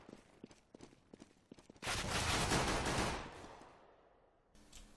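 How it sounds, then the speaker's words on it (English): Several sharp Glock pistol shots in Counter-Strike on the Mirage map, crisp and close, followed by a loud sustained burst of gunfire that fades, then a final shot. "Shots coming in with the Glock."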